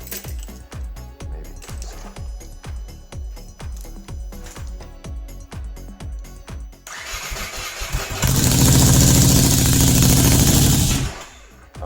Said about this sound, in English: Akrapovic and straight pipe. Oh, straight pipe, maybe very big sound